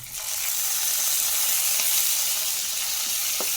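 Tomato dropped into masala frying in a pan for a broccoli palya, giving a steady, loud, close sizzle throughout with a few faint clicks and stirring touches, no voices.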